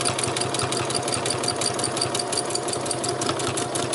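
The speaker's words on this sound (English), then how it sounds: "I'm going to sew this one down" A sewing machine stitches fabric for a small fabric landscape, giving a close, rapid and evenly rhythmic mechanical whirring that runs without a break and has no talking over it.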